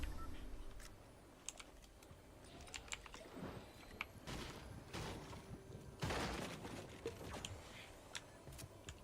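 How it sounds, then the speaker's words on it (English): Loud computer keyboard typing, rapid irregular clatter of keystrokes with occasional heavier thumps, close and steady throughout with no talking. "My keyboard is very loud."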